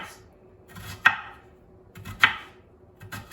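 A knife slices onion for Zuppa Toscana into pieces a little under a quarter inch thick, giving two crisp, close cuts against a board about a second apart in an otherwise quiet kitchen.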